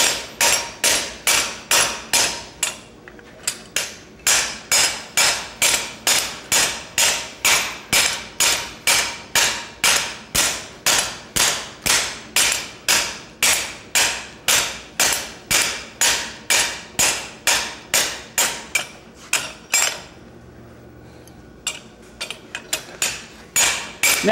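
Steady, rhythmic blacksmith's hammer blows ringing on metal, dozens of sharp, light strikes at an even pace with a couple of brief pauses.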